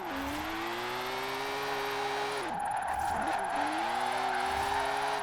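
A drift-built car sliding on the handbrake in Forza Horizon 4, its engine holding a steady droning note that dips and rises again mid-slide, with a continuous whirring tire roar throughout.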